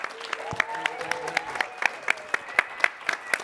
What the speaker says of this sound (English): Everyone, please give our guests a big round of applause